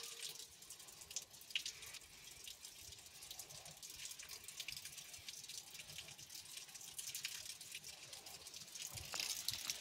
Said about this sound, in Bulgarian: Там се прецежда водата от плакненията